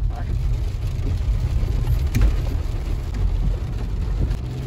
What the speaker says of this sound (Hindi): नहीं बारिश ही आ रही है